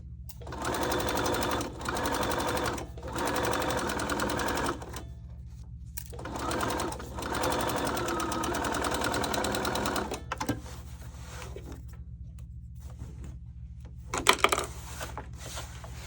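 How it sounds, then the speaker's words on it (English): A sewing machine with a regular presser foot runs in steady bursts as it topstitches along the top of a tote bag pocket, its motor whirring and needle tapping, with pauses and a few clinks between runs. "So I'm using my regular press to foot again, and I'm doing that top stitching at the top of my pocket."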